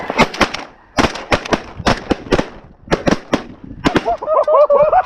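Shotguns blast at incoming snow geese during a hunt, a rapid volley of sharp loud reports in several bursts from multiple guns, with goose honking breaking out near the end.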